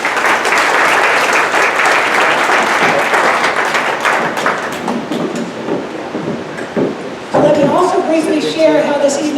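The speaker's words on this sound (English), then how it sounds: "please give them a round of applause also" Loud, sustained applause from a large town hall meeting audience, gradually thinning toward the end as a few voices come through.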